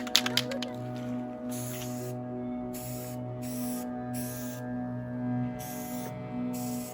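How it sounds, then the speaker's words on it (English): A can of spray paint sprays in bursts while a Halloween ghost town entrance is painted, giving repeated hissing blasts of about a second each with short gaps, close by over a steady low hum. "Is that a different spray paint can?"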